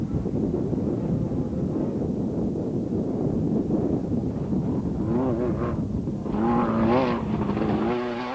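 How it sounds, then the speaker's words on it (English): A crisp-sounding 2-litre Porsche-engined Raceco race car in a Class B off-road rally field drones steadily and loudly with constant wind buffeting, its engine note rising and shifting clearly toward the end. "Heading the Class B field was the Chepex, crisp-sounding 2-litre Porsche Raceco, while Schilling was not far behind"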